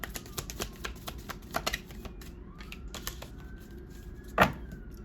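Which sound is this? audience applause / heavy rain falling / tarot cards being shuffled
tarot cards being shuffled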